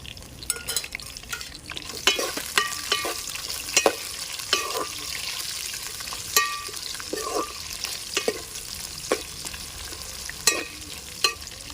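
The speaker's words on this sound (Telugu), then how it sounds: "ఇప్పుడు పచ్చిమిర్చి వేసుకుంటున్నా" Green chillies frying with onion in a pan, a steady sizzle under repeated clinks and scrapes of a spoon stirring, close and fairly loud.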